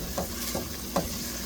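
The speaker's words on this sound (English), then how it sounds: "Give it a nice stir" Diced tomatoes, peppers and garlic being stirred in a hot pan for chicken empanada filling, with a soft continuous sizzle and a few scraping strokes of a spoon, quiet and close, with no talking.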